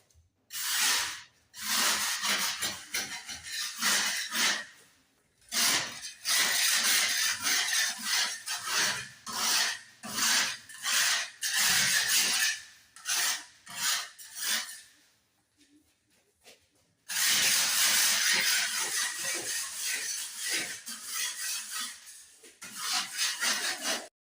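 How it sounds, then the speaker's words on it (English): A scraper rasps over a wall during surface preparation before painting, loud close strokes in repeated bursts with brief pauses and a longer gap near the middle, then a sustained run of scraping. "surface preparation, we're going to start with the scraping"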